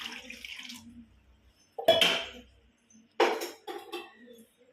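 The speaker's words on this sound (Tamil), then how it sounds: "பால் 1/2 லிட்டர் ஊற்றிக்கலாம்." Half a litre of boiled, cooled milk is poured into rice for curd rice, heard as two short splashing pours separated by quiet, close and fairly soft.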